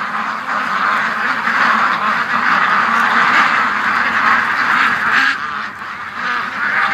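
A flock of ducks quacks loudly and continuously, many overlapping calls close by, briefly thinning near the end before resuming.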